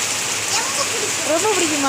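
Steady rain pours down in a dense, continuous wash close by, while a person speaks over it.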